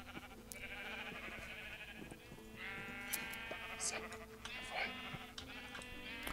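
Sheep bleating in the video game Minecraft: several wavering, nasal bleats at moderate distance, one after another, over a steady hum of game background sound.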